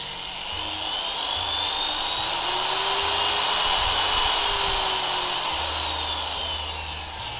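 An electric drill runs alone at adjusted speed, a steady high-pitched whine that swells gradually in the middle and then eases back down, close and continuous.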